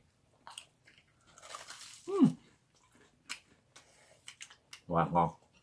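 Someone bites into fried shrimp tempura, producing several crisp crunches and chewing sounds scattered among short vocal noises.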